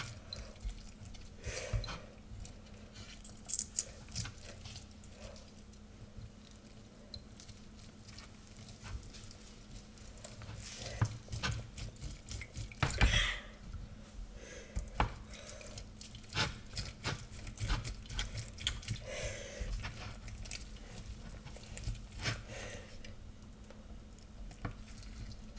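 Orange halves squeezed by hand for fresh juice, giving faint wet squelches and a dripping patter in scattered bursts, heard close up with no talk.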